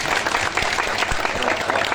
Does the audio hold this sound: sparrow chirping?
no